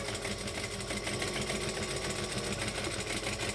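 Sewing machine running continuously, stitching down fringing with an eighth-inch topstitch: a fast, steady mechanical whir and needle clatter, close and even, with no voices.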